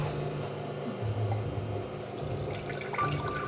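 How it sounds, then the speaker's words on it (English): Beet juice poured into a mason jar, a steady soft liquid trickle with faint splashing that runs for a few seconds, close by and without talk. "So I'm gonna pour some of this out into the mason jar."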